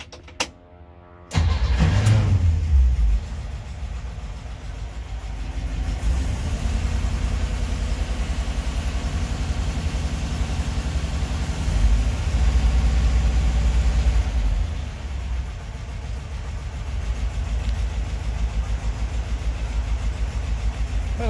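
A car engine cranks briefly, catches and settles into a loud, steady idle that runs on without a break.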